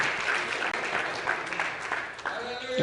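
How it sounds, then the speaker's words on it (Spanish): Church congregation applauding together during an evening service, a steady broadband wash of clapping that fills the room from start to finish, with some voices mixed in. "¿Cuántos pueden bendecir a Guatemala esta noche con un aplauso?"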